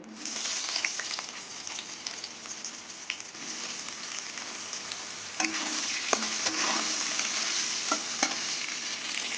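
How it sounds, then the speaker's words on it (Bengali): Eggplant pieces fry in oil left from frying fish, a steady close sizzle broken by repeated scrapes and clinks of a spatula stirring them around the pan, with no talking. "এবার বেগুনগুলো ভেজে নেব"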